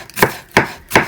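A knife chops cabbage into thin strips on a cutting board, three sharp, evenly spaced strokes close up, with nothing else heard.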